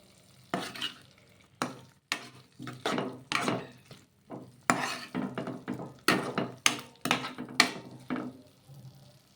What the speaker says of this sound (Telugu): ఇలా ఈ విధంగా మొత్తం కూడాను బాగా కలిపేసుకొని కొద్దిసేపు ఉడికించుకుందాము.